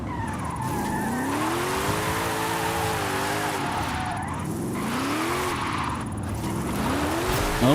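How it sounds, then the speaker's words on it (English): Car drifting down a hill in Forza Horizon 5, engine revving continuously with rising and falling pitch sweeps and steady tire scrub, loud and close throughout with no talk. "Down the hill drift is definitely not as easy"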